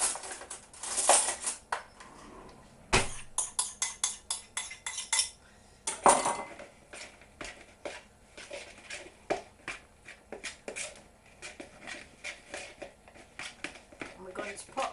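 A spoon scrapes and clinks in a bowl as breadcrumbs are stirred with melted butter, giving irregular close taps and gritty scraping with short pauses, no talking.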